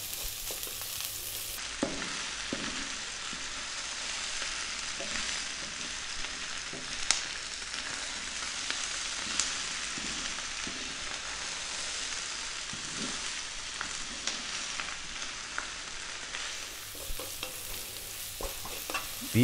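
Beef and broccoli with chili are stir-fried over high heat in a hot pan, giving a constant loud sizzle with repeated scraping and stirring clatters throughout, and no one talks.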